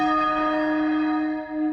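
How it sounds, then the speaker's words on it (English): Church bells ring for the King's coronation, a loud, sustained metallic tone with rich overtones that hangs steadily and then briefly dips and swells. "bell ringers will always ring for royal celebrations"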